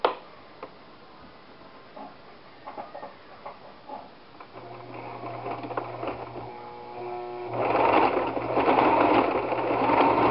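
A sewing machine whirs and rattles, back-tacking fabric for a doll headband, starting with scattered stitches, then running steadily and growing louder as it stitches continuously.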